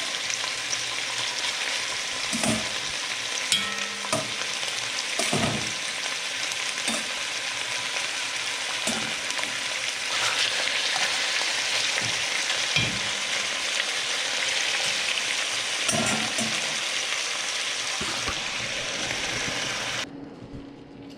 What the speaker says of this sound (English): you can begin to put in the chunks of meat. And what I want to do is just kind of brown those on all sides.